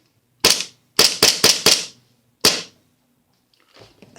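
An airsoft gun firing six sharp, loud pops close by: a single shot, then four in quick succession, a pause, and one more, followed by faint handling noise.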